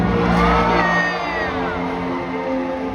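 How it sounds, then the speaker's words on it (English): A large crowd at a SeaWorld orca show cheers and whoops loudly for a killer whale jump, a dense roar that stays loud for the whole stretch. "So when you see Micaiah, give him a cheer!"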